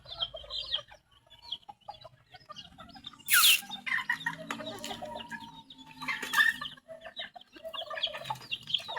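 Native chickens cluck and chicks peep in scattered bursts around a farmyard, with one sharp, loud squawk and other calls near and far.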